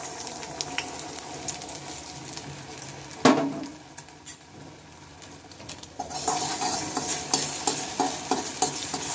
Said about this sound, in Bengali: এখন আমি যে ডিমটা ভালোভাবে ফেটিয়ে রেখেছিলাম, সেই ডিমটাই এখন হচ্ছে আমি দিয়ে নেব।